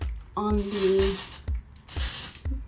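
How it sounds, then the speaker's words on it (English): Oribe texture spray misted onto wavy, curled hair in a few quick hissing bursts, close to the mic, separated by short pauses and brief spoken words. "I'm gonna add a little bit of Oribe texture spray"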